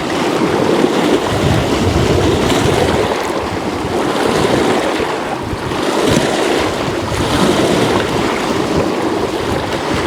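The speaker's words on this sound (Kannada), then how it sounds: "ಸಮುದ್ರದಲ್ಲಿ ಅಲೆಗಳು ಬರುತ್ತಲ್ಲ ಅದೇ ರೀತಿ ಕೆರೆಯಲ್ಲಿ ಅಲೆಗಳು ಬರ್ತೈತೆ." Wind-driven waves wash continuously across the Hemavathi backwater lake, a loud, dense rushing surge mixed with strong wind buffeting on the microphone, with no voices.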